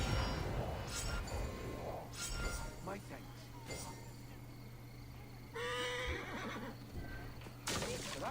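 A horse whinnies several times in Assassin's Creed: Origins, with hoof steps and faint clinks between the calls and speech-like sounds mixed in.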